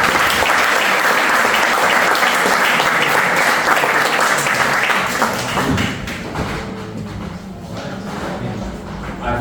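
Loud, dense applause from a large audience at a university design fair, sustained for several seconds before easing slightly toward the end, with occasional thumps mixed into the clapping.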